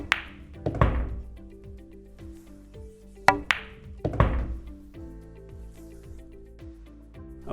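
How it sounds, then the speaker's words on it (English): A pool cue strikes the cue ball with a sharp close tap, followed by ball clicks and knocks bouncing around the table in a quiet room, a couple of distinct impacts over several seconds. "I now pull the trigger, just pushing the cue forwards, the cue ball should react like I imagined"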